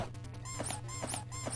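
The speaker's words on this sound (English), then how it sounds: "Again with the squeaky shoes." Sneakers squeak sharply in the NES game Kung Fu, a string of high, chirpy chirps repeating every few tenths of a second over a low steady game hum.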